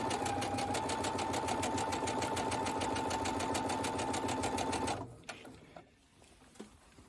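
A sewing machine runs steadily as it stitches bias tape, a fast, even mechanical whir that continues for about five seconds and then stops, leaving a few faint handling clicks.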